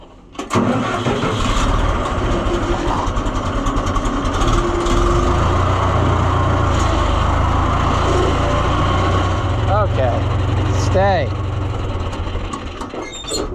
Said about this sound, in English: Good, tractor, good.